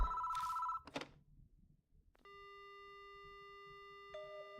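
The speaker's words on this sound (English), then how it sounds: "The phone begins to ring." An electronic telephone ring in a video game (Spirit Hunter: Death Mark) sounds clearly, a sustained tonal trill that cuts in after a brief quiet, preceded by a couple of short clicks and chimes.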